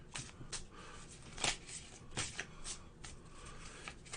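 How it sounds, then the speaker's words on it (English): Star Wars Unlimited playing cards get a rough shuffle, a quiet run of soft riffling bursts and papery slaps spaced irregularly across a few seconds, with no talking. "this is giving it a rough shuffle"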